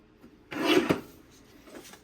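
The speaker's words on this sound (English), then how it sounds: "I'll place this in the trimmer horizontally here and cut at 9 and 5 1/4." A paper trimmer blade slicing through a sheet of 12x12 scrapbook paper, a single close raspy cut lasting about half a second, with quiet handling before and after.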